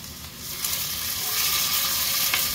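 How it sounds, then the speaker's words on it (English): Onion, garlic and cumin frying in oil in a pan, a steady close sizzle with soft crackle and a faint stirring scrape, no voices over it. "Nicely browning in oil."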